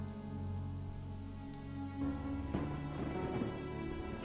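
Steady rain patters on a surface, with a low musical tone underneath and a brief louder rustle partway through.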